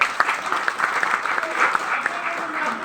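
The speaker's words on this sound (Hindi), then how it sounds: "एक बार फिर ताली बजनी चाहिए।" Audience clapping at a business plan meeting, a lively patter of many hands with a few sharper claps, moderately close, with faint voices underneath.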